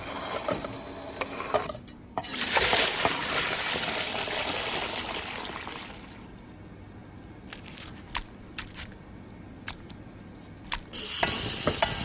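Food stir-fries loudly over high heat in a pan with garlic, ginger, turmeric and yogurt, with scraping and clattering utensil strokes between bursts of frying, close up and without speech.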